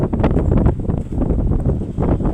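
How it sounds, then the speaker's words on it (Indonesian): Strong wind gusts buffeting the microphone at an open hilltop lookout on Gunung Wilis in the dry season, a loud, continuous rumbling roar that swells and dips without pause. "Anginnya gemerupuk seperti ini ya."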